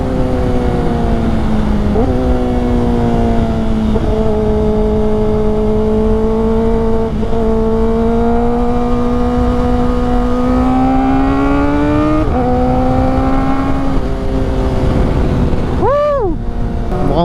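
A Kawasaki ZX4RR sportbike engine revs hard and climbs through several gears on freshly paved road, loud and close, with a high rising whine and shift breaks, wind noise throughout.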